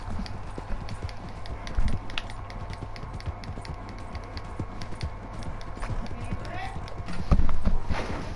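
Horse hooves clip-clop in a rapid, steady gait while riding in Red Dead Redemption 2 during a bear hunt, close and continuous, with a few heavier thuds and a voice talking over them.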